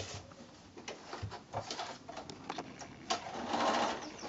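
A sewing machine stitches a quilt block seam in uneven bursts, with a rapid mechanical whir and clicks close by. The stitching starts, stops and then runs faster toward the end.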